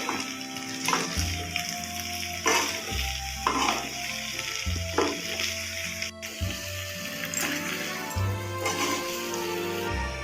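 Jackfruit and potato chunks fry with spices in a pan for an Odia jackfruit curry, giving a steady close sizzle broken by repeated scraping stirs. No one speaks.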